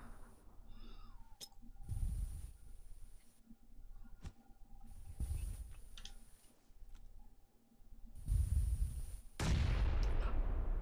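Grenade explosion in the video game PlayerUnknown's Battlegrounds: a sudden loud, broad blast near the end, preceded by several dull low thuds of distant gunfire over a quiet background.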